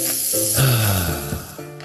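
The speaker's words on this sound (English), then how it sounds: "That's the sound of James adding long-lasting Gain scent boosters to his laundry this morning." Gain scent booster beads pour into laundry with a brief rattling hiss and a low rumble, close and moderately loud, with no voices.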